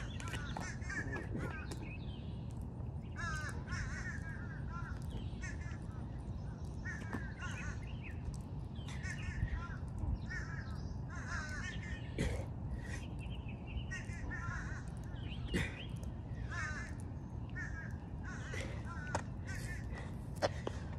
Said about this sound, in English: Hey, bird, shut up.